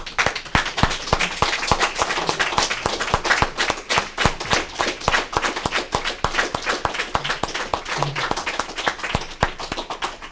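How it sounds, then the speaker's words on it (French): Mourners at the funeral ceremony of Monique Bannon give a warm standing ovation, with dense, steady clapping from a large indoor crowd that carries on evenly for about ten seconds and has no voices over it. "Si on se levait et on l'applaudissait chaleureusement pour tout ce qu'elle vous a laissé."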